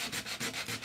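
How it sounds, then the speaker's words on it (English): Sandpaper roughening the fiberglass around a ding on a surfboard, a steady dry rasping scrape in several quick back-and-forth strokes, close and fairly loud with no talk. "you can just use the sandpaper to roughen it up to where the resin will bond to it"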